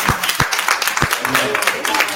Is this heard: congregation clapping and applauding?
yes